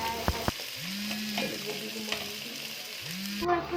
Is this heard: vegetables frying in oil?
yes